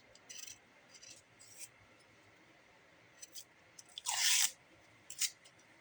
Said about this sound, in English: Try to take the paper off if you can.